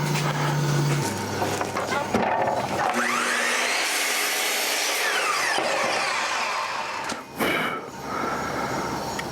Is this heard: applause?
no